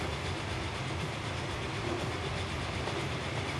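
Steam train in the Transport Fever game rolling steadily along the track, a continuous rumbling roar with faint clickety-clack, even and unbroken for a few seconds, no voices.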